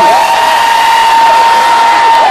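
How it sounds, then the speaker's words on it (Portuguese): A crowd cheers and whoops for Yasmin Carraro at an outdoor LGBT diversity fair in São Paulo's Anhangabaú, a loud, steady wash of voices with a sustained whistle-like tone running through it from start to finish. "Aplausos para Yasmin Carraro."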